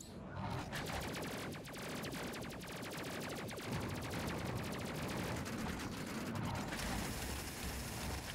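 Rapid rockets and weapon fire in a space-combat video game, a dense rattling barrage of mechanical bursts running steadily throughout, with no talk.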